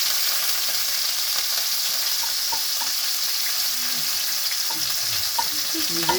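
Vegetables fry in oil in a kadai on a stove for noodles, a loud, dense, continuous sizzle with faint stirring clicks running through it.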